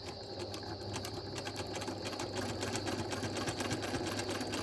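Domestic sewing machine stitching steadily during free-motion quilting along a ruler, a continuous close whirring hum with rapid needle chatter and no talking.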